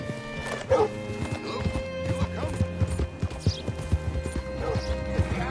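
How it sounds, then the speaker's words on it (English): Horse hooves clip-clop in a steady, uneven rhythm in a video game, close and clear, with a horse whinnying and snorting over a low background drone. "Hitch your horse up here."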